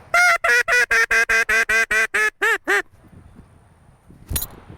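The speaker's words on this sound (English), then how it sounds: "we're gonna sit here like we're hunting and blow the duck call." A duck call is blown in a hunting setting, a loud rapid series of about eleven descending quacks close by, ending in a short tapering pair before quiet.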